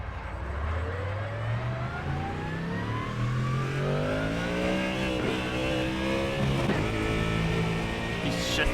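A Ford Mustang GT3 front-engined race car in the iRacing sim revs up through the gears, with rising engine tones that climb steadily and reset at each shift. The sound is loud, continuous and close, with no talk over it.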